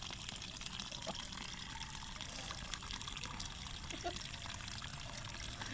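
Clothes being hand-washed in a basin of water, with steady sloshing, trickling and splashing running continuously at moderate level and no voices.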